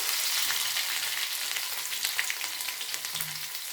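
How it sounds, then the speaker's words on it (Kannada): Mustard seeds, cumin and crushed garlic sizzle and crackle steadily in hot oil while a drumstick sambar is prepared, a close, continuous frying hiss with scattered pops and no talk. "ನೋಡ್ರಿ, ಸಾಸಿವೆ ಜೀರಿಗೆ ಚಟಪಟ ಅಂದಮೇಲೆ ಈ ಒಂದು ಬೆಳ್ಳುಳ್ಳಿ ಏನು ತೊಗೊಂಡಿದ್ವಲ್ಲ ಇದನ್ನ ಸ್ವಲ್ಪ ಕ್ರಷ್ ಮಾಡಿ ಅಂದರೆ ಜಜ್ಕೊಂಡು ಹಾಕ್ರಿ."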